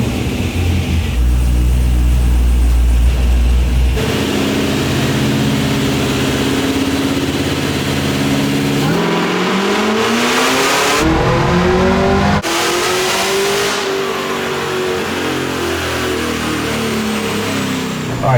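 A supercharged LS3 V8 in a 1962 Chevy C10 starts at a deep idle, then roars through a loud, sustained dyno pull that climbs steadily in pitch before dropping off and revving again.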